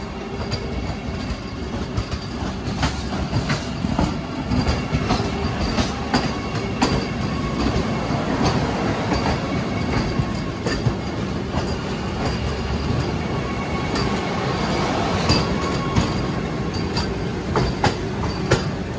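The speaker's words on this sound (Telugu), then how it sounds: "చూడండి ఈ ట్రైన్ విశాఖపట్నం వస్తుందండి" A Vande Bharat Express train rumbles steadily past on the tracks, a dense continuous roar with rhythmic clatter and faint metallic squeals, loud and close throughout.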